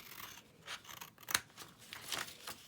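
Scissors snip through paper flaps while a foldable is being made, giving several quiet crisp cuts with one sharp louder snip in the middle.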